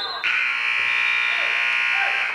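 A loud, sustained electronic buzzer sounds in a high school gym, marking the end of the second bout of a varsity wrestling match; it starts abruptly and holds steady for about two seconds over faint crowd and voices.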